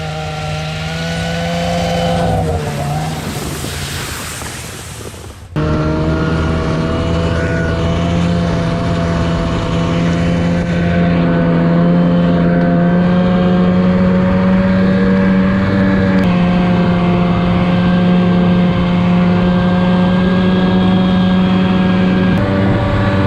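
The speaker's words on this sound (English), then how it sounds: "Right now, I gotta get my truck off of the log road." A truck drives off a log road in winter wilderness, its engine humming steadily and loudly with a brief rough burst early on, then a constant droning tone for the rest.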